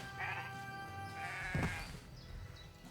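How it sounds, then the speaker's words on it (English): Sheep bleating in the video game Renowned Explorers, two or three short tonal bleats over a quiet game soundtrack with a soft thump between them. "You beat the shit out of the sheep."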